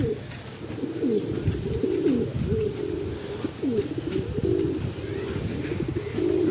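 Pet pigeons coo close by in a loft, a repeated throaty rolling call with several overlapping birds cooing in an uneven rhythm throughout.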